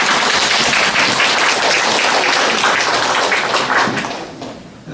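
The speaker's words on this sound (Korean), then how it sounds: "박수!" Loud, dense applause fills a parents' information session on school mathematics, steady throughout and easing slightly near the end.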